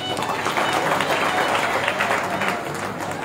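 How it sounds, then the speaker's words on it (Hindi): Applause from a seated audience at a Srimad Bhagavatam discourse in Noida, a steady mid-distance clatter of many hands with a faint murmur underneath. "पिताजी के लिए ताली बजाओ जोर से"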